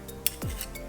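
A spoon stirs an almond butter and agave chocolate mixture in a bowl, making a quiet clink followed by a brief scraping swish, faint and close.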